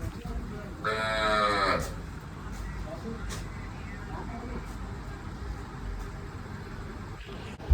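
Nearby, a cow gives one loud, drawn-out moo lasting about a second. Afterward only faint farmyard background noise remains, with a soft knock at the end.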